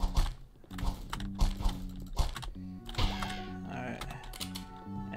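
Computer keyboard and mouse clicking rapidly during a game of Evil Plush 3D, with dense, close, loud clatter of keys and clicks in bursts over faint game sound.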